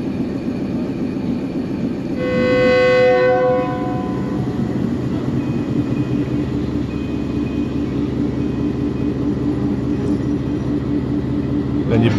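Passenger train on the single-line Lahore to Rawalpindi railway at Kala Gujran station, a loud tonal horn blast early on, then a steady low rumble of the train rolling, close and continuous.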